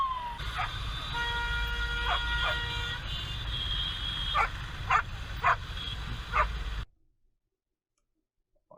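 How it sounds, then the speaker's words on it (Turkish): A dog barks several times at a distance over steady low background rumble, the barks spaced irregularly, before the sound cuts to silence. "Köpek."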